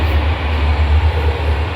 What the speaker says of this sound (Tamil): ட்ரெயின் போயிட்டு இருக்கு